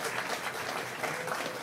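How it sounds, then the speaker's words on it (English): Audience applause after a poem reading by Ms. Potter at a legislature swearing-in ceremony, a steady, even wash of clapping from a crowd filling the hall throughout, with no voices over it. "Please, let's give Ms. Potter another round of applause."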